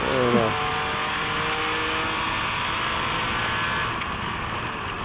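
A Datsun race car engine revs high and steady at the Monterey Historics, its pitch climbing through gears and then holding as the car speeds along a track, loud and close.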